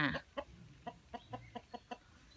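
A fighting rooster clucking in a series of short, evenly spaced calls, fairly faint and alone, after a brief louder squawk at the start.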